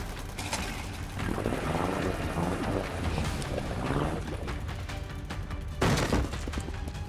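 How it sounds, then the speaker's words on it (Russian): A motor boat in the Roblox game roars steadily amid rushing wind and water, loud and close throughout, with a brief louder burst near the end. "Молчун и Масита добежали до моторной лодки."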